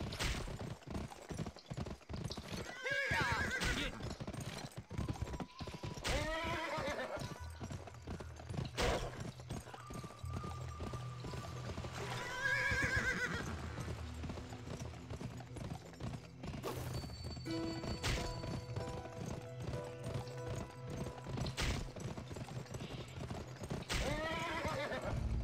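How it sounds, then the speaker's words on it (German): In the video game Gun, a horse neighs several times amid clattering hooves and thuds as it is beaten, the whinnies rising over a busy mix of impacts. "Oh je, Pferd wird verprügelt"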